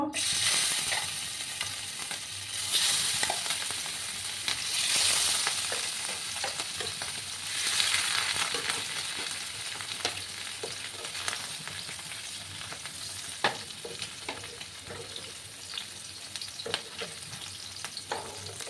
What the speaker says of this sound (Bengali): তেলটা গরম হয়ে গেছে বন্ধুরা এবার আমি একে একে মাছগুলো দিয়ে দেবো